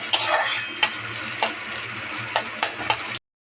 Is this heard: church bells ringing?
no